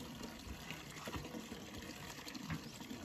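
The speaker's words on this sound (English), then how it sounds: "Slowly water comes, you know? Slowly water flows." Water from a hand pump trickles and splashes in a steady, low, continuous flow, fairly faint, with no voices.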